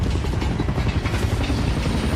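Black Hawk helicopters in a video game trailer, a dense, continuous rotor thump and engine roar filling the short clip at steady loudness, with no talking.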